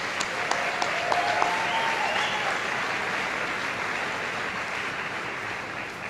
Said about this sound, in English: let's please give a round of applause for all your parents